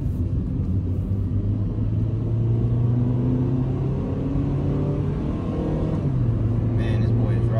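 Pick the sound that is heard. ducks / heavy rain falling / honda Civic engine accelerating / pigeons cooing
honda Civic engine accelerating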